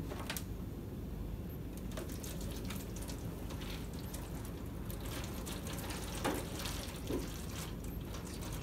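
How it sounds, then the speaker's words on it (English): Water is poured carefully into a pan of sand and pebbles to about an inch deep, making a steady, quiet trickling and splashing that runs throughout, with a couple of slightly louder splashes near the end. "you're going to carefully pour water into the pan to a depth about an inch"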